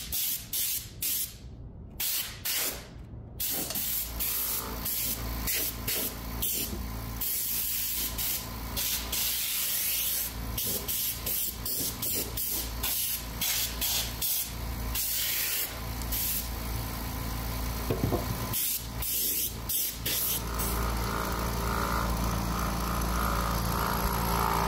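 Blower powered by a Bluetti AC180 portable power station blows wood dust off freshly built shelves, a steady loud airy rush running continuously with brief dips at the start.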